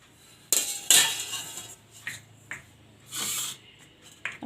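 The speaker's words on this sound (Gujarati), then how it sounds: "તો આપણે આ છીણી લેશું ગળને." A block of jaggery is scraped over a metal kitchen grater for a sweet jaggery sharbat, giving a few sharp, separate rasping strokes with short pauses between them, close and fairly loud.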